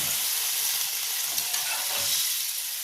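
Hilsa fish head with potato and pumpkin cooking in a pot after water is added, giving a constant close hissing bubble with faint stirring sounds.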